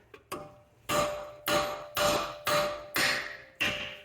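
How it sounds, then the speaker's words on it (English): A hammer strikes the side of a corroded outer tie rod on a 2011-2017 BMW X3 F25, about seven sharp ringing metallic blows in a steady rhythm, close and loud, with no talking. "So the reason you tap the sides there, it helps break up the corrosion there."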